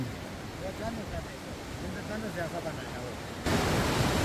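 A waterfall pours in a steady, hissing rush that grows louder toward the end, with faint voices underneath, in the Urgam Valley near Joshimath.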